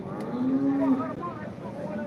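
A single cow moos in a long, steady low call that swells and fades, close by over faint background noise, at a cattle market in Modnimb.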